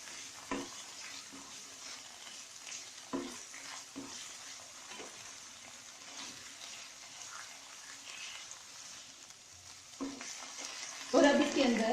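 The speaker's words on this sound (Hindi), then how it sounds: "इसको थोड़ी देर के लिए आप भून लें।" Spices sautéing in a pan for spinach rice give a steady sizzle, with scrapes and knocks from stirring at irregular intervals. A louder burst of frying comes near the end, and no one speaks.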